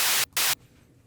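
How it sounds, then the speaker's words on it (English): Filtered noise synth tone limited to the highs and high mids, made for glitchy electronic fills: two loud, hissing bursts in quick succession, each cut off sharply, followed by a faint residual tail. "we're only getting those like highs, high mids-ish noise tones"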